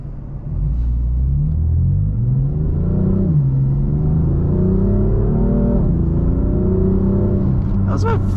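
A 2018 BMW M4 engine pulls hard at roughly half throttle, a loud, close, rising growl with gear-change dips before climbing again, heard from inside the car.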